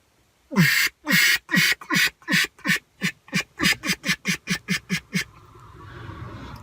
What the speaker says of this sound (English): this is the sound that I make as I'm quacking